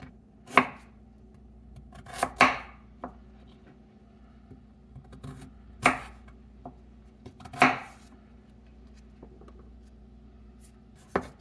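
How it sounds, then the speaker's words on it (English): A knife julienning carrot, bell pepper and green onion on a cutting board, with a handful of crisp, separate chops spaced irregularly against a quiet background. "We're going to do a julienne cut, or you can do a bias cut on that as well."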